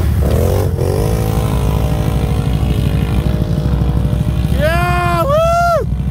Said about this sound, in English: Show him how stock exhaust does it.